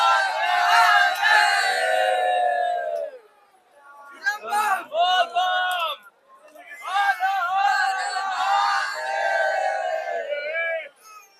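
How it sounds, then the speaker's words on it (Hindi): Thousands of pilgrims crowd the bank of the north-flowing Ganges at Sultanganj on the first day of Shravan. Their massed voices rise in loud chanting bursts, break off briefly, then swell again close and full. "यहाँ सुल्तानगंज में उत्तर वाहिनी गंगा के तट पर आप देख रहे हैं हजारों श्रद्धालुओं की भीड़"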